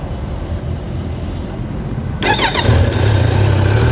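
A Kawasaki Z900 motorcycle on its stock exhaust idles with a steady low rumble close by. Partway through, a brief high squeak cuts in and the engine note grows slightly louder.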